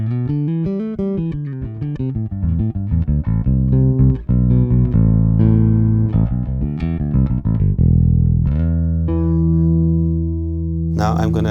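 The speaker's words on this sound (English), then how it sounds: "Let me play just the bass." Ibanez EHB1505S short-scale headless bass played straight in with no processing: a melodic run of clear, close notes and sliding lines, then long sustained low notes and a final bright harmonic-rich strike.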